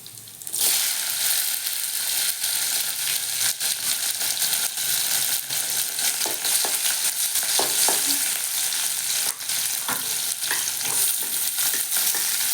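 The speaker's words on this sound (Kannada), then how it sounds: "ಫಸ್ಟ್ ಎಣ್ಣೆ ಹಾಕಿ ಆಮೇಲೆ ಕರಿಬೇವು ಜೀರಿಗೆ ಸಾಸಿವೆ ಹಾಕಿ" Hot oil tempering curry leaves, cumin and mustard seeds for a ridge gourd palya crackles and sizzles loudly after a brief quiet start, with a dense, steady hiss punctuated by sharp pops and stirring scrapes.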